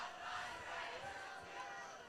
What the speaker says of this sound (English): The Raiders firing up a nice cheer on the far side.